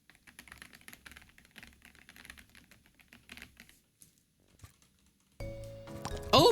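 Keys clack in quick irregular runs on a new HSR Boothill-themed mechanical keyboard with red linear switches, close and fairly quiet, with a brief pause before a louder rustle at the end.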